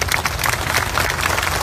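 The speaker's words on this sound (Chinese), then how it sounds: "唔該拍手" Audience applause at a Cantonese political talk, a steady wash of many hands clapping throughout, loud and dense with no break.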